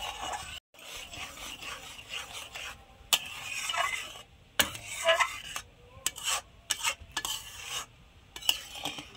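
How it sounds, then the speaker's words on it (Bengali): Spatula stirring thick raw mango jelly in a pan: repeated scraping and rubbing strokes with soft wet sizzle, irregular in rhythm and close up, with brief pauses between bursts of stirring. "এবার ভালো করে আমি খুন্তি দিয়ে নাড়াবো"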